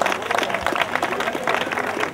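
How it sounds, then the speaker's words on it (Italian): Warm applause and crowd noise for the winner of the Valcavallina Superbike race, a dense, steady patter of clapping that runs throughout without a break. "l'applauso doveroso e caloroso per Tony Longo."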